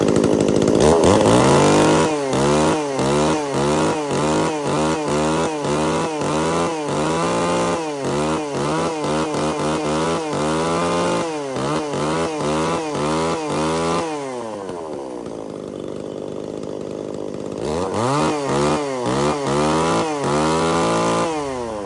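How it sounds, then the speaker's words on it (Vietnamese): A small, lightweight used Japanese mini chainsaw of about 4 kg runs loud and close, its two-stroke engine revving up and down repeatedly, briefly dropping to idle before revving again. "Cần một chiếc máy cưa mini nhỏ nhẹ, con này thì chỉ nặng khoảng tầm 4kg thôi anh em."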